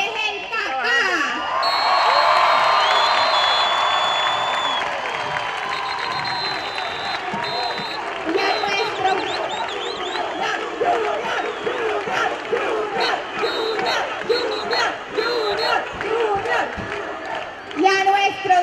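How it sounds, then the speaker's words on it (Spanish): Large festival crowd in Barranquilla cheering, whooping and applauding for footballer Teófilo Gutiérrez, a loud sustained roar with shouts rising and falling throughout. "démosle un aplauso merecido"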